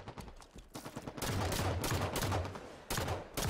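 Rapid gunfire in a Halo free-for-all match, dense bursts of shots over a busy in-game soundscape, with fire returning after a brief lull.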